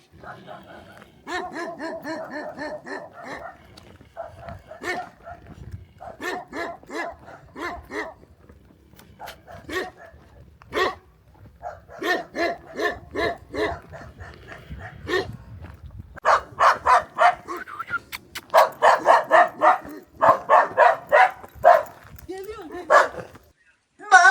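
A dog barks repeatedly in uneven bursts, growing louder and more frantic toward the end, with some yips mixed in and occasional voices nearby.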